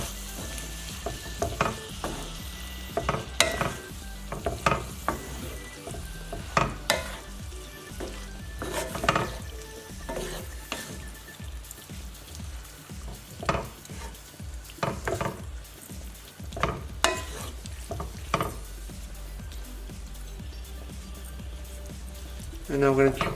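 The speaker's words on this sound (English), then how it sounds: "Mix that together." Sesame beef and green beans are stirred and tossed in a hot pan, giving a steady sizzle with repeated scraping and clattering strokes; a voice speaks over parts of it.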